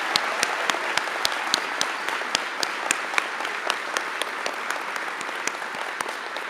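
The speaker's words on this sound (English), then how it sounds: "please take a moment to applaud and celebrate our graduates one more tomorrow" Steady audience applause at a nursing pinning ceremony for the class of 2024, dense sustained clapping with a few sharper individual claps standing out, moderately loud and continuous, no voices over it.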